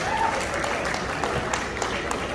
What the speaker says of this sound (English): a round of applause another for Bhavani, Amitabh, and for our entire Instant Karma team